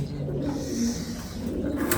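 A pigeon in a loft gives low, soft cooing close by, a short continuous murmur with a slight rise and fall.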